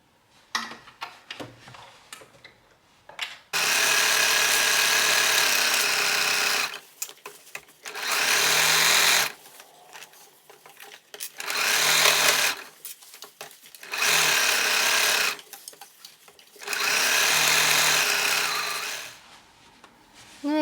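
A sewing machine stitches the crotch seam of a pair of pants in several loud, close bursts of rapid whirring, separated by short pauses filled with soft handling clicks.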